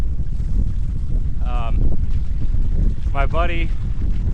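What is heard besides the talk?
strong wind blowing on the microphone at a lagoon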